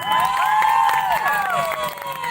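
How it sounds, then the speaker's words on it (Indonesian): Festival crowd at a solo song competition final claps and cheers, with shouting voices and whoops sliding over a loud, close wash of applause. "Tepuk tangan untuk kita semua"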